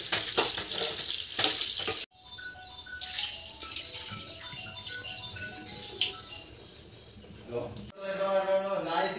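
Flattened rice (poha) being rinsed in water in a home kitchen, with splashing and sloshing running steadily at close range, broken by a short pause and some clinking.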